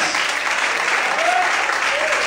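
A church congregation claps loudly and steadily during an evening sermon, with a faint voice rising briefly over the applause.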